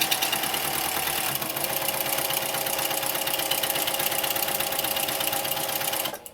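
A home sewing machine runs fast and steady through straight line quilting, a close, continuous mechanical whir with a rapid rhythmic needle chatter that stops abruptly at the end.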